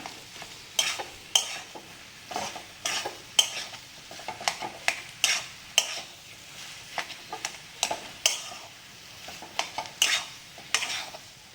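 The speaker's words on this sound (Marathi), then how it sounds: "दोन मिनिट आपण बटाट्याची भाजी छान परतून घेऊया" Potato bhaji for Kolhapur-style batata vada gets stir-fried in a pan, a spatula scraping and tapping the metal in quick irregular strokes over a faint background sizzle, close and without speech.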